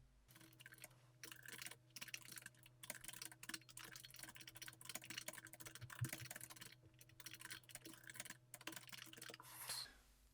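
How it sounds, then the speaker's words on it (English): Fast, steady typing on a computer keyboard, soft and close with a low hum beneath, the key clicks running in irregular bursts throughout. "Actually, let me start typing this."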